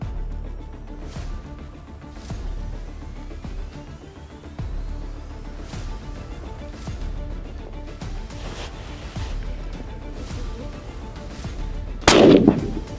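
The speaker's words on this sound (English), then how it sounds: "Come on, one more shot, Garrett." A cheap rifle fires outdoors, several sharp cracks spread across the span with a louder, close shot near the end, against quiet background.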